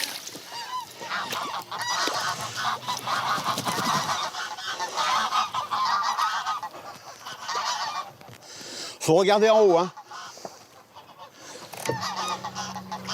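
Wild geese honk repeatedly at a moderate distance from a hunting hide, three family groups settled and feeding; someone speaks French briefly near the end.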